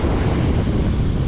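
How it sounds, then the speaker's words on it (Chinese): Sea waves and strong wind on a beach in Sanya, a steady loud rushing roar of surf mixed with gusting wind buffeting the microphone throughout, with no voices. "今天的海浪不小"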